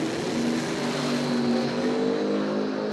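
Two drag cars race at Cordova Dragway, a 1979–80 Chevrolet Nova with a centrifugal supercharger against a nitrous-equipped Chevrolet Camaro. Their engines make a steady, loud roar with a sustained droning tone throughout.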